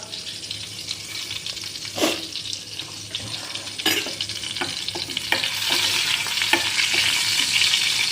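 Cumin seeds frying in lightly heated oil, a continuous close sizzle with sharp clicks and scrapes of stirring scattered throughout, growing slightly denser toward the end, no talking.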